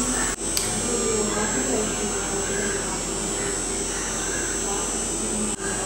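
A standing electric fan has just been switched on while running on solar power. It gives a steady, close whirring hum with an airy blowing noise that holds evenly the whole time, with no voices.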